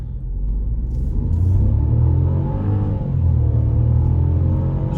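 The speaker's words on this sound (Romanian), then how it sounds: "Zumzetul de 3 cilindri nu e așa de rău." A 2022 Skoda Fabia's three-cylinder engine accelerates hard from standstill toward 100 km/h, a loud, close, low droning hum that rises steadily in pitch, with a brief gearshift dip partway through.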